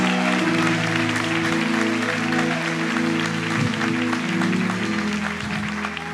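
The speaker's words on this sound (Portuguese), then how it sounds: "aplaude a Jesus" A church congregation applauds continuously during a worship service, broad clapping blended with loud sustained music and voices throughout.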